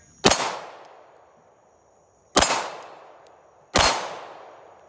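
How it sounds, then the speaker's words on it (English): A .22 rifle fired at about 10 yards as dusk falls: three sharp, loud reports spaced roughly two seconds apart, each ringing off into a short decaying tail, with no talking. "Carrie Ann's just shooting the 22, finishing up here."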